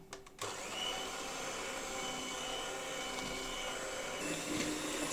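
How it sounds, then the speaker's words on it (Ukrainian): An electric mixer whips butter with condensed milk. A short start at the beginning gives way to a steady, loud, close motor whir that runs unbroken to the end, with no voices. "Масло збиваю зі згущенкою."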